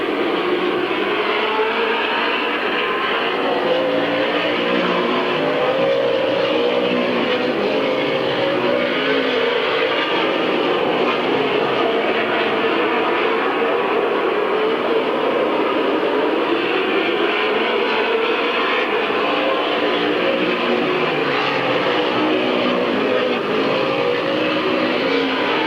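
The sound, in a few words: race cars driving at Midvale Speedway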